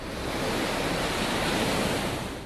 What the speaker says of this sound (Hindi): समंदर में उठ रही बड़ी लहरें और भारी बारिश ने पूरे देश को दहशत से भर दिया है